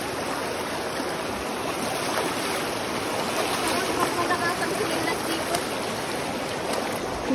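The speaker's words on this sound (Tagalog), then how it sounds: "Lakas ng agos." A strong river current rushes steadily with a dense, even wash of flowing water.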